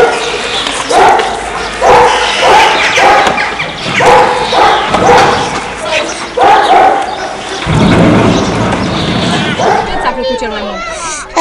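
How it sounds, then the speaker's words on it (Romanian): A police dog barks repeatedly in a steady run of sharp woofs during a demonstration at an institution, with children and adults chattering loudly around it and yelps near the end. "pentru a vedea demonstrațiile câinelui polițist"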